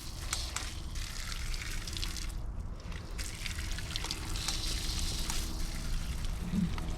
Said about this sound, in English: You go from the stock Oxygenics to the Oxygenics Fury RV shower head.